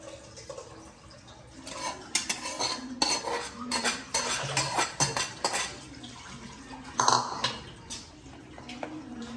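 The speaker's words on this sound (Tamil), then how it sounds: "இந்த லெமனை சாதத்தை ஊற்றி அப்படியே மிக்ஸ் பண்ணணும்" Cooked rice is mixed with lemon juice in a pot, with repeated close scraping and clanking of a metal spoon against the vessel in uneven bursts, no talk.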